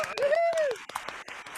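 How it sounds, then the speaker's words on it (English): Audience applause at a live television show with a music guest, dense clapping lasting under two seconds, with a bright sustained tone sweeping across the middle of it. "let's give them a massive round of applause"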